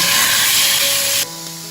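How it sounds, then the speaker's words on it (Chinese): Pork belly sears in hot oil in a pan, giving a loud, dense, close hiss of sizzling that suddenly drops to a quieter simmer near the end. "五花肉煎到两面金黄"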